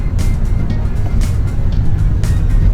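A 1991 Mitsubishi 3000GT VR4 twin turbo drives over a rough, badly surfaced road, giving a steady, loud low rumble of engine and tire noise. Brief hissing swells and bumps pass by now and then.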